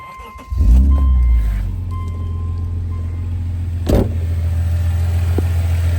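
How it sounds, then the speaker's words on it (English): A 2005 Subaru Outback engine cranks and catches with a brief rev, then settles into a steady, smooth idle nearby; a short clunk sounds partway through. "Engine is super quiet and clean."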